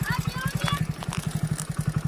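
A motorcycle engine thuds in a fast, steady rhythm close by while the bike is ridden home, and someone talks over the engine throughout.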